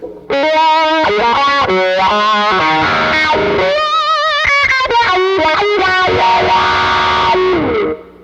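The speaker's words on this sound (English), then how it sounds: "Now when I play the wah, it's nice and responsive and got a wide range." Distorted electric guitar played through a wah pedal and a Katzenkönig fuzz stack, with sweeping vowel-like filter changes across sustained notes and bends, loud and continuous with no talking.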